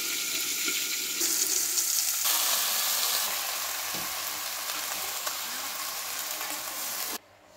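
Tomatoes frying in oil for a quick tomato chutney, a steady bright sizzle running close and loud for about seven seconds before cutting off abruptly near the end.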